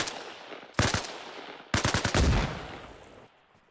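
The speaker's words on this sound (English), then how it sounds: "So we'll shoot this barrel first." Automatic gunfire in Arma Reforger aimed at a destructible barrel: two loud, close bursts of rapid shots, the second longer and heavier, followed by a decaying rumble.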